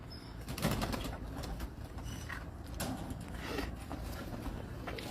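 Pigeons of a prized long-kept rooftop flock, cooing and fluttering continuously at close range, with soft wingbeats and scattered bird noises and no talking.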